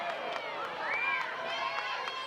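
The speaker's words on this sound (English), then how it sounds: "Getting a bit of a reaction from the crowd there." A crowd at an NCAA college softball game between BYU and Oklahoma State murmurs and rises into a brief swell of cheering, steady and fairly distant, with voices mixed throughout.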